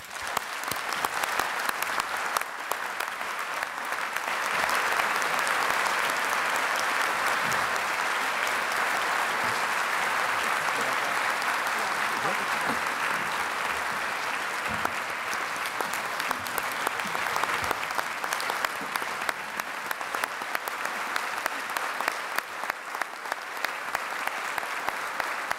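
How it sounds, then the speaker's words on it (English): Sustained audience applause at the inauguration of a community college's fifth president, a broad, steady roar of many hands clapping that carries on for a long stretch and thins slightly near the end. "won't you join me in giving her a round of applause?"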